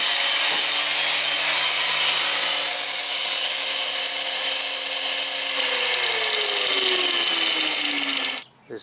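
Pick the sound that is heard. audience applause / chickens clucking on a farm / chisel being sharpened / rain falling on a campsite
chisel being sharpened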